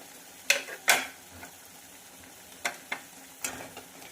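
Fried paneer is stirred into spicy masala in a pan, giving a handful of sharp spoon-on-metal scrapes and clinks over a faint, steady sizzle.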